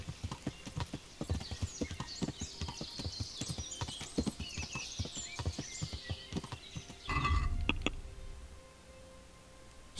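Quick, regular clip-clop of horse hooves trotting along in the video game Kingdom Come: Deliverance, then a brief rush of movement before the hoofbeats stop; no talk.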